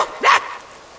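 A single short, sharp bark from a person mimicking a dog, one loud yelp that rises and drops within a fraction of a second, heard alone without other speech.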